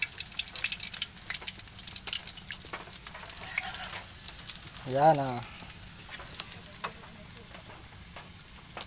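Banana blossom patties of blossom, onion, garlic, egg and flour sizzle in hot oil, a steady close crackle throughout with brief stirring scrapes, while a person speaks briefly over it.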